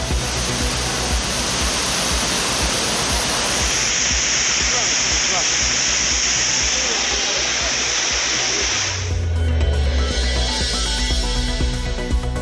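Courtallam waterfalls in Tamil Nadu pour steadily with low flow, a loud continuous broadband roar of falling water throughout, shifting slightly in tone near the end.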